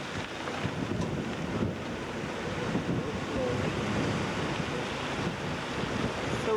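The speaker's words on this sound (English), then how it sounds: "So we can hear the waves and the rocks" Ocean waves wash over the rocks at Blue Rocks, Nova Scotia, in a continuous surf roar mixed with heavy wind buffeting on the microphone. There is no clear speech over it.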